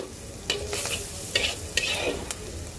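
Raw prawns sizzle in a pan as they are stirred, a close, even sizzle broken by several sharp scrapes and clinks at irregular intervals, no voices.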